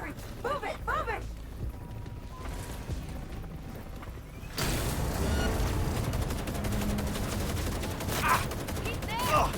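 Gunfire from Cyberpunk 2077: Phantom Liberty during a rescue fight, with dense bursts of shots building in the second half into steady, loud firing, mixed with shouting voices.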